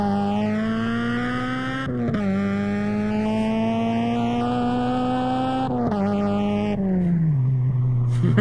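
A car engine in the video game Arma 3 drones loudly and steadily, its pitch climbing through gears with brief dips at each shift, running alone without talk.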